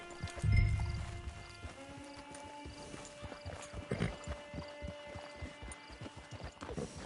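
Horse hooves clip-clop in a steady, moderately close rhythm at a camp, opening with a loud whinny and continuing as repeated hoof strikes without talk.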